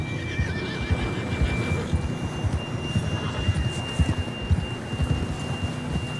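A horse in Red Dead Redemption 2 whinnies and gallops with rhythmic hoofbeats over a dense, rumbling bed of rain-like noise, close and continuous throughout.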